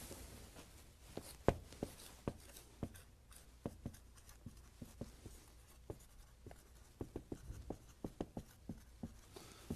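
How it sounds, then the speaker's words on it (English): Pens scratching and tapping as an audience writes down answers during a seminar, with irregular short strokes scattered throughout and no talking. "I'd like you to write down the answers."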